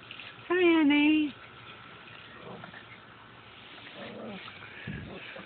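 A dog gives a short, loud whine or yelp near the start, then a person talks quietly over soft background noise.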